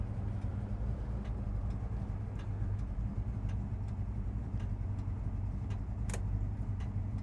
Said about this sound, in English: Idling nicely, not stalling out.